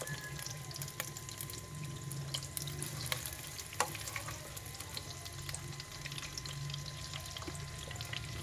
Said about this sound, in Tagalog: Gigisa ko yung sibuyas at kamatis.